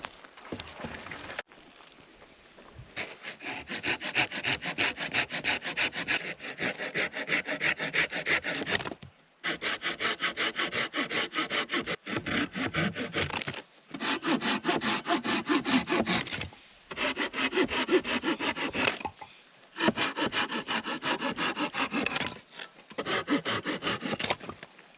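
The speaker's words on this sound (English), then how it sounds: "I'm only cutting up stuff that I find on the ground that's already dead." Dead wood found on the ground in Big Sur is cut up for firewood, with close, rhythmic rasping saw strokes in several long bursts separated by short pauses.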